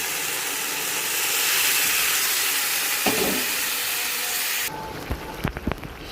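Water poured into a hot pan of fried spices and chili over salt and turmeric, a loud rushing hiss and boil that swells, then cuts to a quieter simmer with a few clicks and clatters.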